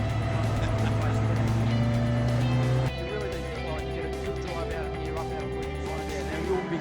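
A Porsche 944 race car at full throttle through a corner at Phillip Island, its engine droning loud and steady, then shifting pitch midway as the gear changes, with a commentator talking over it.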